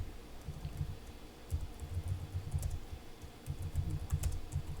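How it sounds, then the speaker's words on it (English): A computer keyboard clicks in quick bursts of typing, soft and close, with short pauses between runs of keystrokes and no talking. "I don't know if you can hear my keyboard clicking"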